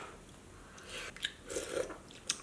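Lobster ramen being eaten, with lobster meat, broth and noodles taken in one bite: quiet, close chewing and slurping that builds into a few soft crunchy bites and ends with one sharp little click.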